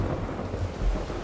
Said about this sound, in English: Yes, lightning and thunder.